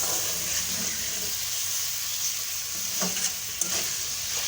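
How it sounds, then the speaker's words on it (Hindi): Fried okra being stirred into cooked masala in a pan, a steady close sizzle and hiss with a few soft stirring scrapes near the end. "भिंडियाँ डालने के बाद हम इसको थोड़ा सा चला देंगे ताकि मसाला मिक्स हो जाए इसके अंदर।"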